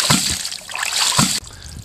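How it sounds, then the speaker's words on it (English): Water from a ram pump pours into a stock tank 87 feet above the pump, a steady splashing and sloshing with a couple of heavier surges before it cuts off abruptly. "Pumping water at final destination, 87 feet above."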